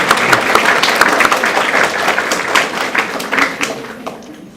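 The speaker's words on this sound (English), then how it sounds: "we would like to give you a round of applause for supporting these young authors" An audience at a school young authors awards evening claps for the parents, a dense burst of many hands that is loud at first, then gradually thins and fades out by the end.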